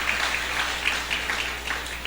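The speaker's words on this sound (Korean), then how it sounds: "잠깐 일어나시면 큰 박수 한번 해주시기를 바랍니다" A church congregation claps in welcome for a visiting guest at a Sunday morning service, a moderate, slightly distant patter of hands that stays fairly even throughout.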